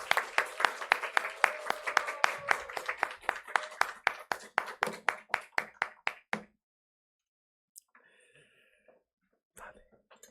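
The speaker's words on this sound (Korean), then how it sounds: "큰 박수로 환영해 주십시오" A church congregation gives a preacher a round of applause at an afternoon service, steady clapping for about six seconds that thins out, followed by quiet with a couple of faint coughs or shuffles.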